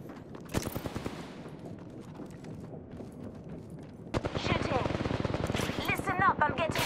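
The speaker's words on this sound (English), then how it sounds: "Listen up, I'm getting shot at." Video game gunfire: rapid bursts of shots, first sparse and loud, then dense automatic fire crackling in the latter half, with faint game sounds between the volleys.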